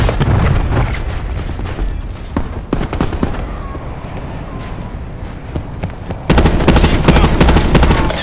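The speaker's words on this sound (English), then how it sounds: "Throwing cluster grenade" Cluster grenade explosions and gunfire in Call of Duty: Black Ops 4 hardpoint multiplayer, a string of sharp close bangs and rattling shots, then a dense burst of blasts toward the end.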